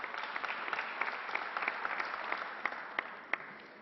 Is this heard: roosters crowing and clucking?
no